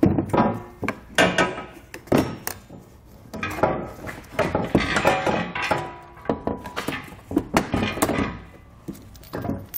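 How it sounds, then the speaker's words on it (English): Metal trailer hitch being lifted and fitted into place under the rear of a 2017 Toyota RAV4, heard as a close series of irregular knocks, clunks and thuds with short pauses between. "we're ready to lift our hitch into position"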